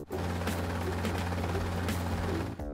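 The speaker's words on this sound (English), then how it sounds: "Helicopter." Helicopter in a children's vehicle cartoon, a loud close rotor chop with rapid rhythmic thumping over a low steady drone, lasting about two and a half seconds before cutting off.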